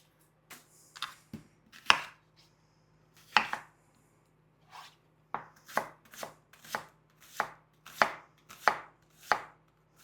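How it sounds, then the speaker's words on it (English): A small onion chopped with a knife on a cutting board, a series of crisp, close knocks in irregular bursts, some quick in succession and others separated by pauses, against a quiet background. "Now we're going to chop up a small onion."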